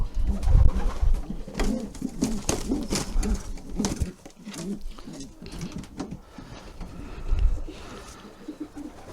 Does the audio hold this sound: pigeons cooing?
yes